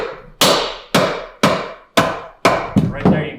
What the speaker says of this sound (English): Not with a hammer, but with a soft or a dead blow. Just kind of tap a little bit.